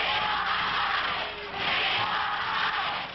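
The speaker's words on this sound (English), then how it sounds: "A full house crowd yelling," A full house crowd at a pro wrestling match yells and roars continuously, a dense, loud wall of voices that swells and dips slightly without letting up.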